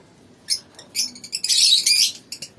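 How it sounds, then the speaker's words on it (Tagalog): Pet birds in a cage chirping and calling, bright high chirps and squawks in short bursts, one longer busy stretch of overlapping calls in the middle, close and fairly loud with no talk. "sarap pakinggan yung mga boses, mga huni nila"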